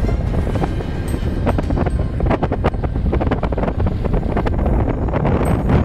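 Strong gusting wind of about 35 knots roars across the microphone aboard an anchored boat in loud, continuous buffeting, with faint creaks and rattles underneath.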